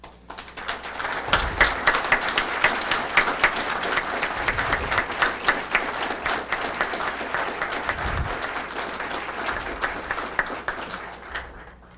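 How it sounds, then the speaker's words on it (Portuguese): Sustained applause from a seminar audience of guests and academics, steady dense clapping filling the whole stretch with a few louder claps standing out. "Peço que se levantem, por favor, para receberem os aplausos desta plateia e dos acadêmicos."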